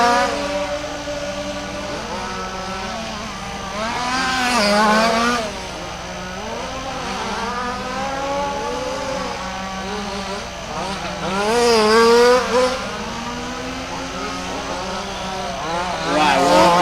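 Race cars lapping the Warm Springs track in a RAMS WCC event, engines rising and falling in repeated passes, rev sweeps swelling near then fading, steady under a voice talking over a loudspeaker.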